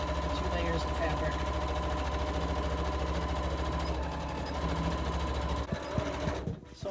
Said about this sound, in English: I've stitched one side, I'm working on the second side